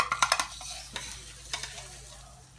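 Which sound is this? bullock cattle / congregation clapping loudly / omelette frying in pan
omelette frying in pan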